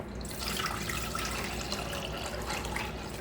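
Water is poured into a cooking pot for dill pickle brine, giving a steady faint splashing trickle throughout with no talk.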